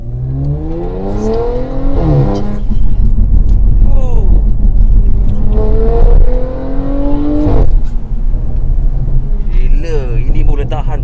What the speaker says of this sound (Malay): Ini full MILLTEK exhaust.